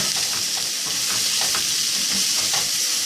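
Squash and eggplant frying in a pan, with a steady close sizzle and occasional soft clicks of stirring throughout, no voices.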